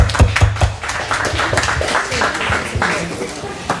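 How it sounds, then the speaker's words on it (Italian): An audience claps at the closing night of a carnival festival in Pachino, with a few sharp, close claps first and then a dense, steady round of applause. Some talk can be heard faintly. "Un applauso, dai!"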